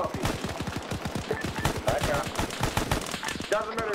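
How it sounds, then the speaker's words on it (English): Rapid automatic gunfire in a military video game, a fast continuous rattle of close loud shots with brief voices mixed in. "Open fire on other civilians inside."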